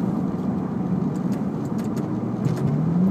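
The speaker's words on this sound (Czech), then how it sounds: "A on ten motor jakoby i skáče, jo, když potom řadíš" Ferrari 458 engine heard from inside the car during calm driving, a steady mid-low drone with pitch rising and dipping as gears change, continuous and fairly loud with no talk.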